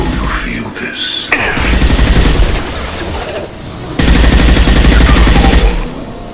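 Sustained heavy gunfire in the sci-fi shooter Mass Effect 2, dense loud bursts of weapon fire with rumbling booms and a voice speaking briefly over the combat.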